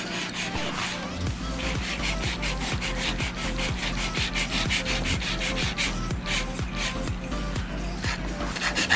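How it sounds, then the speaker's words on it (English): A nail file rasps rhythmically across a fingernail in quick back-and-forth strokes, close and steady, a dry scratching pulse that repeats throughout while shaping the nail. "So what I'm going to be doing now is just filing this again"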